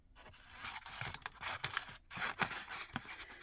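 Sticky stamping mask material peeled off a roll and then cut, heard as close, faint tearing and crackling pulls with a few short snips, no talking.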